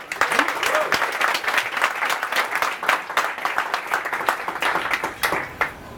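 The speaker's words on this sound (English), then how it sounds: "Let's clap it up for that question." Live-show audience applauding a question, a dense, steady wash of many hands clapping for the full stretch with a faint voice or two mixed in, fairly close and loud.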